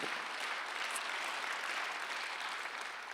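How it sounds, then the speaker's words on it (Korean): A church congregation claps together, a dense, even wash of applause that holds steady for the full stretch without a clear start or end, no voices standing out. "박수 한번 주세요"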